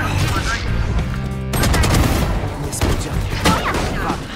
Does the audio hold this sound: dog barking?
no